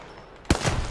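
Video game gunfire erupts suddenly after a quiet moment: a loud, sharp burst of shots that rings out briefly.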